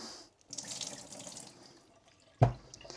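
Water poured from a tap into a bowl of cabbage for kimchi, a steady splashing stream in a kitchen sink that ends in a sharp louder splash near the end.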